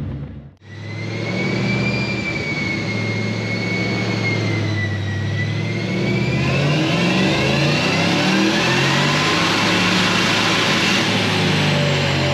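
A supercharged Ford Mustang GT V8 fires up and idles at about 1000 rpm, a deep, steady rumble with a whine over it, then climbs in pitch as the revs rise, close and loud.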